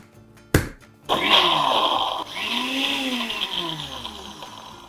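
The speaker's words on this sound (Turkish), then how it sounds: "eğer blenderınızda güçlüyse pat diye geçiyor" A sharp clack, then a Bosch blender motor whirs up and grinds loudly and steadily while making Italian budino pudding, its pitch shifting slightly as it runs.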